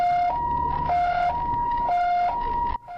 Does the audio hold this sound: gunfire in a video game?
no